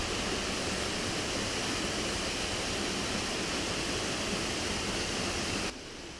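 Brown Brook cascades down a hillside in a steady, dense rush of water, continuous and fairly near, cutting off abruptly near the end.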